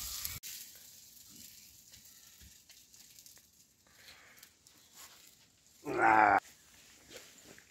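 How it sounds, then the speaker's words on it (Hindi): Tadka tempering for rajma dal made with local Manali rajma, at a shepherds' jungle camp in the hills, a loud burst of sizzling oil lasting about half a second near the end of a quiet outdoor stretch, with no voices. "तो भाई ये लग गया तड़का दाल को।"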